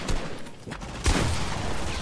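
Sniper gunfire in the video game Fortnite, a few sharp cracks including a strong shot about midway, over busy game noise, with no talking.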